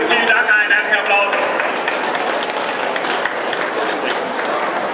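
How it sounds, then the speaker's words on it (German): Audience applause at a comic festival event, a burst of clapping from the crowd over a few seconds with people's voices mixed in. "einen herzlichen Applaus."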